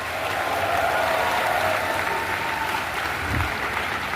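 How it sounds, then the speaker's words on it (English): A convention panel audience at Dragon Con claps in a dense, sustained round of applause, steady and fairly loud, with faint voices mixed in. "Please give them a big, big round of applause."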